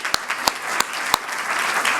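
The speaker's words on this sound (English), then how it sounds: "A round of applause." An audience at a chamber of commerce breakfast with school superintendents applauds, several crisp, prominent claps rising above a steady wash of clapping from the room.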